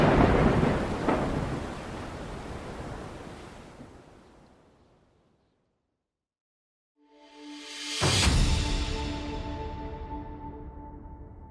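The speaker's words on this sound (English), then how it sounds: "The thunder was deafening, and waves of torrential rain drenched the men and horses and supplies." A heavy thunderstorm with torrential rain: a loud rushing downpour fades away to near silence, then a sharp thunder crack bursts in and rolls on under steady rain.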